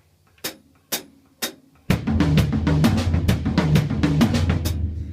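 A drum kit plays a three-beat accent pattern, two unaccented strokes then an accented one. Three sharp single hits come first, then a busy, steady run of close, loud strokes continues to the end with no talk.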